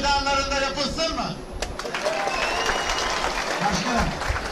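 Spectators applaud loudly at a Turkish oil wrestling event in Karaculha, Fethiye, Muğla. Sustained clapping fills the scene while an announcer speaks over it.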